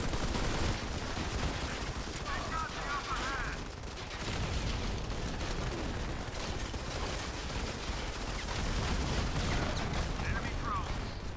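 Gunfire in the mobile shooter Modern Combat 5 rattles through a dense, noisy stretch of game audio with bursts and explosions, while players talk over it throughout.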